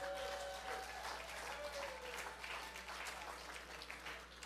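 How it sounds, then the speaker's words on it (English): A congregation claps in a sustained round of applause during a Friday night Shabbat service, a dense, steady patter of many hands filling the room for several seconds with no voices standing out. "Give Jesse a big round of applause for that."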